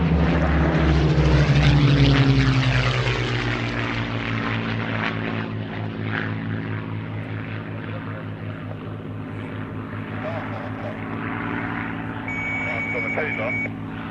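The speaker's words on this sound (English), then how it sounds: "As the Gladiator comes in, you can see the lowered flaps on both the lower and the upper wings there" A Gloster Gladiator biplane comes in to land with a loud, droning propeller engine whose pitch slides downward as it passes close by, then fades to a steadier hum while a commentator talks throughout.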